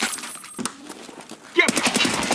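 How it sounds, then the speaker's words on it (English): Gunfire in the Escape from Tarkov game: a brief crack near the start, then a sharper volley of rapid shots in the last second, heard close and fairly loud. "Oh no, he just shot at me."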